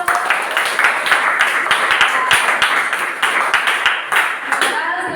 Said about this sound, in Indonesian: Ya, tepuk tangan terlebih dahulu.